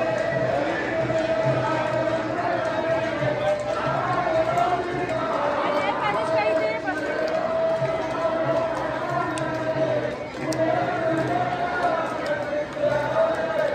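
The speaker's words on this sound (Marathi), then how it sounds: "तुम्ही बघू शकता केवढी गर्दी आहे" Large crowd chattering at a Jai Malhar temple fair, a steady dense babble of many voices close around with a few footsteps and knocks mixed in, continuous for the whole stretch.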